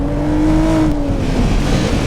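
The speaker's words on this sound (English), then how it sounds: "And the car proceeds down the track" A car in the BeamNG.drive video game drives down a test track, its engine droning steady and loud and its pitch sliding slightly as it goes.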